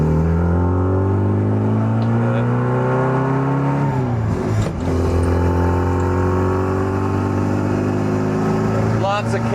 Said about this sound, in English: You can hear just how rumbly and grumbly it is. It just has a very guttural sound to it.